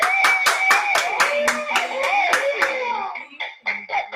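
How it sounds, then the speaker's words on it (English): An audience at a live comedy-style show claps in a run of sharp, fairly loud hand claps that thin out toward the end, with voices faintly mixed in. "Give it an applause, y'all."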